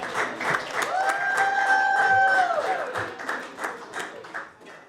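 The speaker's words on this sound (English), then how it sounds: "Have a nice round of applause for Tom." An audience applauds Tom Reilly as he is called up at a small business industry night, steady clapping spread across the room with a voice calling out over it, fading toward the end.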